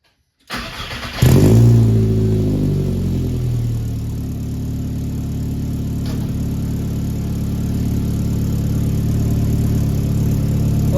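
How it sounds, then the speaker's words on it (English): A 1.8T turbocharged MK1 Rabbit pickup with a Techtonics exhaust cranks briefly and fires up, then settles into a steady, deep, fairly loud idle that carries on alone with no talking. "Give this thing its first start and see how much different it sounds"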